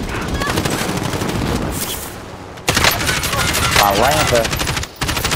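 Call of Duty Warzone gunfire crackles in rapid automatic bursts, loud and close, broken by short gaps while a player talks over it.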